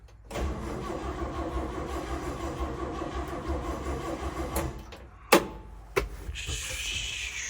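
A Chevy C60 truck engine cranks in a steady, loud, rhythmic churn for several seconds without catching, then cuts off, followed by a couple of sharp clunks and a brief hissy noise.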